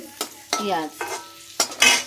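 Fish head frying in a wok, with several distinct bursts of stirring and scraping at close range over a soft sizzle, no voices.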